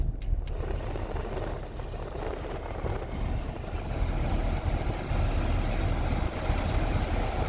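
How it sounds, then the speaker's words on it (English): A 2002 Toyota Corolla LE running with the air conditioning on, a steady close engine and blower drone that swells slightly midway, with no talk. "Let's see if the AC works."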